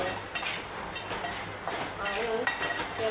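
Masoor aamti ingredients sauté in a pan, with faint sizzling under repeated clinks and scrapes of a utensil stirring against the metal.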